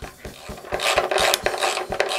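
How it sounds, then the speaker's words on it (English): A tight drive belt on a homemade wooden jointer runs, giving a loud, steady mechanical whir with a rapid rhythmic ticking and slapping, heard alone with no talk. "Now, that's the sound of a nicely tight belt."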